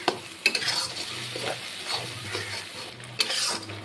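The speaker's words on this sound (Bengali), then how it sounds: "মশলাটাকে আমি 2-3 মিনিট ভেজে নিব।" Ginger, onion, garlic and green chili paste fries in hot oil for a chicken masala, a steady close sizzle broken by the repeated scrape and clink of a spoon stirring in the pan.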